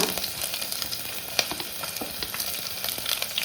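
Ginger and garlic fry in hot oil with dried red chillies for nethallu thoran, a bright continuous sizzle with scattered crackles and pops and a few spoon scrapes against the pan.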